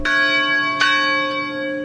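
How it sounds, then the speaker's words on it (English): Church bells toll in memory of shooting victims in Uvalde, Texas, two loud ringing strikes with long humming decay and a fainter third. "Beautiful but sobering church bells tolling for the 19 children and 2 teachers killed at Robb Elementary in Uvalde, Texas"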